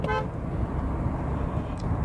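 A Kia Seltos petrol SUV gives one short horn toot right at the start, heard from inside the car, followed by a steady low road and engine rumble while driving.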